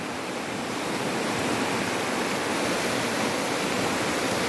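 Strong floodwater current in a flooded neighborhood in Narathiwat, a loud, steady rushing roar of fast-moving water close by, unbroken and with no voices.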